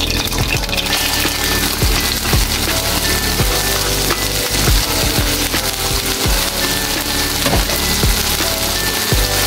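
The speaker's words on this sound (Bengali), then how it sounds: "এখন আমি এটা একটু হালকা তেলে ভেজে নেব। তেল দিয়ে দিচ্ছি, চিংড়ি মাছটা দিয়ে দেবো।" Dried shrimp frying in a little oil in a pan: a loud, steady crackling sizzle peppered with sharp pops and spits, close up and continuous, with no talking.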